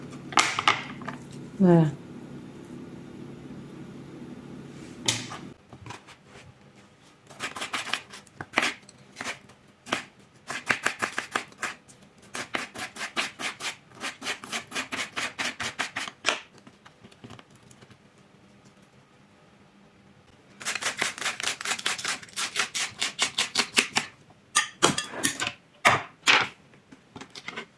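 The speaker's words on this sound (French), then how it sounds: "les carottes. On va les couper en lanières. Très finement." Knife slicing carrots into very thin strips on a cutting board, fast rhythmic tapping chops in several long bursts with pauses between, close by, with a voice speaking briefly at the start.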